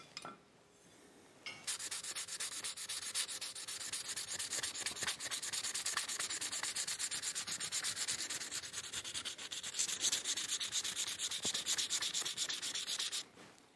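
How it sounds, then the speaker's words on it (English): Steady sanding of a wooden handle on a garden trowel forged from a mower blade, a continuous dry rasping scrape close up that runs for about twelve seconds after a short quiet start, with no talking. "Now I'm going to go ahead and sand this back down."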